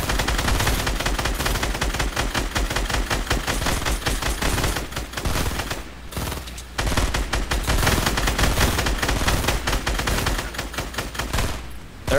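Dense Fortnite Battle Royale gunfire, with rapid automatic bursts firing continuously and loudly and only a couple of brief pauses, no voices.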